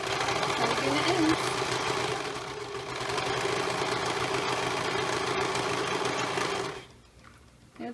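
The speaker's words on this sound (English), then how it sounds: "I'm going to be serging the edges of this mermaid tail" A serger runs steadily for several seconds, stitching and trimming the edges of a fabric mermaid tail in a loud close mechanical whir, then stops abruptly, with a voice speaking over it.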